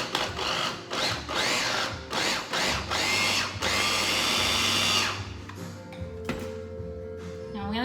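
A blender whizzes keto chocolate avocado mousse made with avocado and chocolate in short, pulsing bursts, then runs in one longer steady whir before stopping, followed by lid and bowl clatter nearby.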